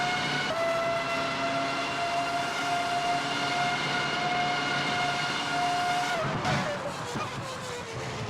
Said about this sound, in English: Revving the engine up a little bit, huh?